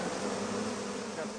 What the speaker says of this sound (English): taking on a swarm of killer bees would be the ultimate nightmare